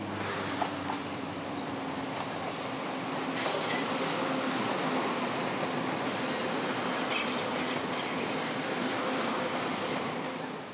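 A train passes along a railway line in Taiwan, its wheels rumbling steadily with squeals and clicking, sustained and fairly loud throughout before easing slightly at the end.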